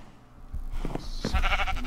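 Sheep in the Minecraft video game bleat in a couple of short, nasal calls over faint game background noise, close and clear, with no speech.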